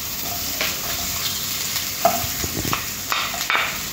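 Shredded leftover meat sizzles in a pan with pechay, adobo style, as a utensil stirs and scrapes through it, with steady frying hiss and scattered close clinks.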